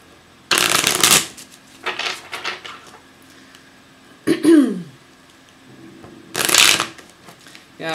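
Oracle cards for a shamanic healing reading are shuffled close by in several quick riffling bursts, with a throat clearing and small handling clicks in between.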